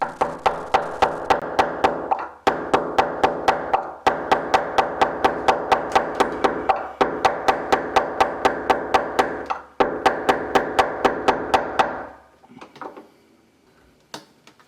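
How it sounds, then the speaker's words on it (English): A hammer tapping a screwdriver against a reef aquarium's bulkhead nut: rapid metal-on-metal tapping in several quick bursts, dozens of sharp light strikes in a steady rhythm, close by, ending with a few scattered clinks. "we'll use the flat edge of a screwdriver and a hammer to gently tap it in position"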